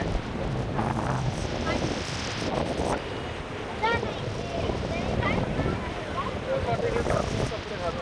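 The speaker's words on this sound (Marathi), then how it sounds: "बघा खूप हवा आहे" Strong wind buffets the microphone near a windmill, a continuous rough roar with gusty swells. A person talks over it throughout.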